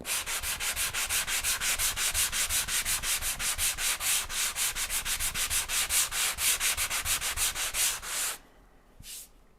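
A drywall patch is sanded by hand in rapid, even back-and-forth strokes, a loud rhythmic scratching rasp that runs steadily for about eight seconds, stops, then returns as one brief final stroke.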